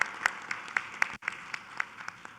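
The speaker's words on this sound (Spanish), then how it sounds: "Un aplauso para nuestros compañeros." A small group at a weekly assembly applauds its hosts, a handful of distinct, fairly sharp claps in a loose, uneven rhythm over quiet room noise, with a brief gap partway through.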